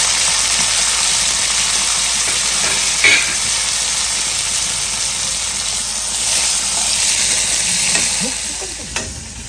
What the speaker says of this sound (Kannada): ಈಗ ಅದಕ್ಕೇ ಕಟ್ ಮಾಡ್ಕೊಂಡಂಥ ಒಂದೆರಗದ ದಂಟು ಮತ್ತು ಬೇರನ್ನು ಸೇರಿಸ್ಕೊಂಡ್ಬಿಟ್ಟು ಚೆನ್ನಾಗಿ ಹುರ್ಕೋಬೇಕು